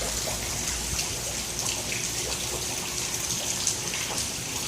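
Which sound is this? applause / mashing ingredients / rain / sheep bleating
rain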